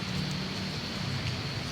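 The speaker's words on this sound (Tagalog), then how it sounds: "Tuloy-tuloy pa rin po ang ulan." Rain falls steadily outdoors on a street, a continuous, even hiss of drops with a low background rumble, short and moderately loud.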